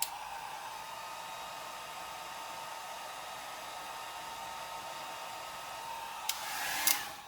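A heat dryer blowing steadily over an alcohol ink painting, a loud continuous whooshing hum held for several seconds, with a brief clatter near the end and no talking.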